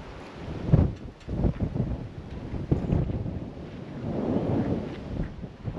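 Strong wind gusting along the Waikerie cliff top in South Australia, loud buffeting rumbles battering the microphone in uneven surges, with no talking.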